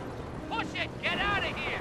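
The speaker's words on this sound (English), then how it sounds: "The Greyhound is taking panzer fire!" In the Company of Heroes war game, panzer tank cannon fire hits a Greyhound armoured car. Heavy booming blasts and gunfire rumble under loud shouting voices.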